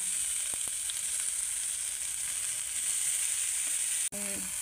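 Grated carrot frying in ghee in a pan for carrot halwa, a quiet steady sizzle with a couple of faint clicks and one sharp knock near the end.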